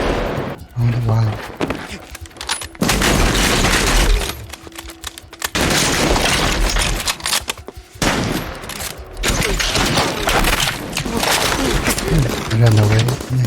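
Machine gun fire from the war film Dunkirk, loud bursts of rapid shots and heavy booms filling the mix, with voices speaking over and between the gunfire.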